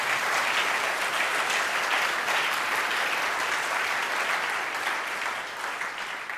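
A church congregation applauds and cheers the Lord during a sermon, with sustained dense clapping from a large crowd that fades slightly toward the end.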